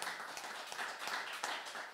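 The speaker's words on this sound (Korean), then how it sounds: "박수를 치며 하나님께 영광을 얻으시기 바랍니다" A church congregation at a Sunday service claps together in praise, a brief burst of quiet, somewhat distant clapping with a few sharper individual claps.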